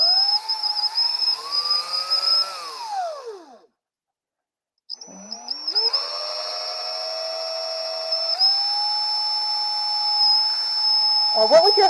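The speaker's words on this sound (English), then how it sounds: "I'm just going to drill down the center." An electric drill bores down the centre of a paper craft piece, whining loudly and steadily at close range, spinning down, pausing briefly, then starting up again and running on.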